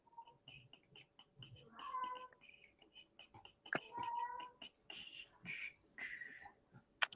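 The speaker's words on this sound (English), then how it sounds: "I hear that cat in the background." A cat meows and caterwauls repeatedly in the background during a stormy evening, several drawn-out cries at moderate distance coming in irregular bursts.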